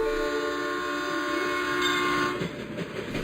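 A train rumbles past with a long, steady horn blast sounding over it, the horn dropping away near the end as the rolling noise continues.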